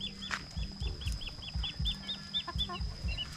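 Chickens around a rural Thai or Lao village home cluck in short repeated bursts, with a few wing flaps and scuffles among them, fairly close and moderately loud over faint background noise.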